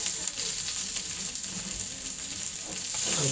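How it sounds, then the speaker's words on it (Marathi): Garlic-chilli paste and curry leaves fry in hot oil with a loud, dense, crackling sizzle that stays steady for the whole short moment. "लसूण आणि मिरचीची पेस्ट बनवलेली आहे ती त्याच्यामध्ये ॲड करायची आहे. आणि कढीपत्ता त्यांना व्यवस्थित फ्राय करून घ्यायचं आहे आपल्याला."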